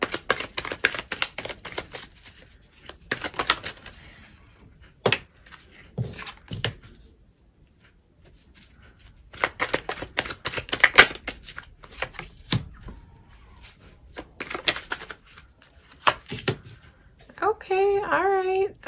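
Tarot cards drawn and shuffled by hand during a reading, giving quick papery riffles and slaps in short bursts between stretches of a voice talking.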